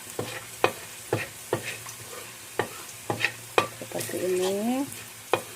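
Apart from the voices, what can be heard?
stir-frying fish in a wok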